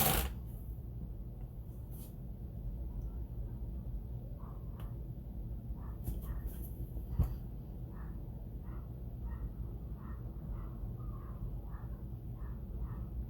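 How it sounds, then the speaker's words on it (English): A dog barks repeatedly in the distance, faint, steady and evenly spaced, behind quiet room noise in a home kitchen where cookies and brownies are being baked. "I hear a dog in the background"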